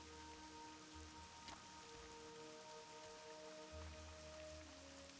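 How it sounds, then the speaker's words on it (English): Rain falls in the Shire within a video game, a steady soft patter with no voices, over low sustained tones of in-game ambience. "Just started raining in the Shire here."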